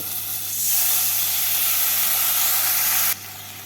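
Spice paste hits hot oil with a cumin seed tempering for a Bengali fish curry, bursting into a loud, sharp sizzling hiss that holds steady for a few seconds before cutting off abruptly, over a low steady hum.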